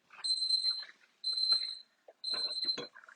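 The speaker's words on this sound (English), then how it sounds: "See, it's good to have a timer." A kitchen timer sounds three long, shrill electronic beeps spaced about a second apart in a home kitchen, loud and close, with clattering and handling noises during the last beep.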